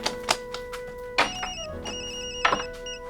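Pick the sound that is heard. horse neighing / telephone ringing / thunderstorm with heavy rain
telephone ringing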